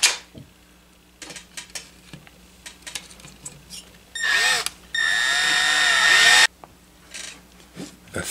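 Power tool driving screws into the muffler of a STIHL HS-80/HS-81R hedge trimmer, two short whirring bursts, the second longer and steadier, amid scattered clicks and handling of metal parts nearby.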